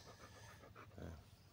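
A small dog at a workplace pants in quick, soft, breathy puffs close by, low in level, with faint background noise.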